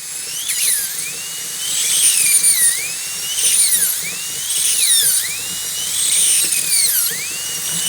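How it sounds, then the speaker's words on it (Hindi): A high-speed dental bur whines while cutting an endodontic access cavity into a maxillary first molar, its shrill tone dipping and rising in about five steady cycles as the drill is pressed and eased. "मैं इसके अंदर एक ही जगह के ऊपर बर रखूँगा ऑलमोस्ट सेंटर में, और पैलेटल कैनाल के ऊपर इसको सीधा का सीधा डिग करता चलूँगा"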